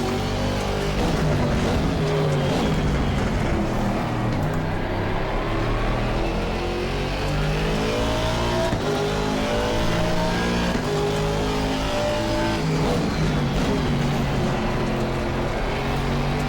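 An Aston Martin GT race car engine in the Assetto Corsa Competizione racing game revs hard and continuously, rising and falling through gear changes at close range with no pauses.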